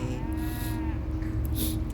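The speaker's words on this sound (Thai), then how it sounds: "นี่วัวโอเค" Cattle moo on a farm where corn feed is being chopped and spread, a long, drawn-out lowing call over a steady rumble of background noise.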